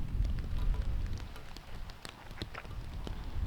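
Rain pattering steadily on the ground and gear during a disc golf round, a faint, even hiss with scattered drop ticks and no talking.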